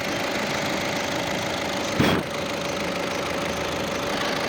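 A 2016 Volkswagen Polo diesel engine idles evenly and steadily up close, a constant low hum with one brief bump in the middle.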